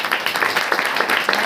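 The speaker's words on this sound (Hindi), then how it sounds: "ताली बजा करके पढ़ो।" Audience in a church meeting clapping hands in a quick, fairly even rhythm, a brisk run of claps heard close and moderately loud.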